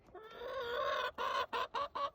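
A hen clucks in a drawn-out call, then four short, evenly spaced clucks follow, close and fairly loud with no talking.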